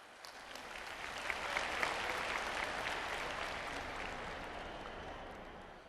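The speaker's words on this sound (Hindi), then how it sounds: "आप सबकी जोरदार तालियों के बीच" Sustained applause from a large audience at a women's self-help groups conference in Karahal, Madhya Pradesh, a steady wash of many hands that swells slightly near the middle and tapers gently toward the end, with no talk over it.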